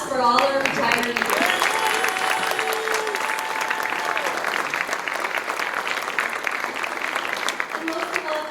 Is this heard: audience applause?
yes